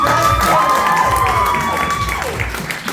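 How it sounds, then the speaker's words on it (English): A variety show audience applauds and cheers for a performer, a steady wash of clapping and crowd noise with scattered shouts, loud and close throughout. "Another big round of applause for Justin!"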